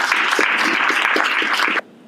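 An audience at a college cyber security event claps steadily, a dense burst of applause that stops abruptly near the end, leaving quiet room tone.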